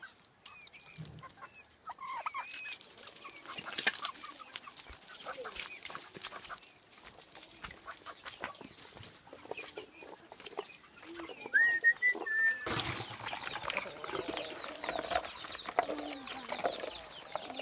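Chickens cluck and chatter throughout, a busy flock close by, with a sharper burst of bird calls partway through.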